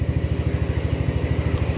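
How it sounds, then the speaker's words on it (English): An ATV engine idles after carburetor cleaner has been added, a steady, fast low-pitched putter with an even, close and moderately loud rhythm. "Mine already seems like it's idling better, believe it or not."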